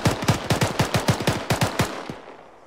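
A Zeus anti-aircraft cannon in a military video game fires a rapid burst of about a dozen heavy, evenly spaced shots, loud and close, ending in a short fading echo.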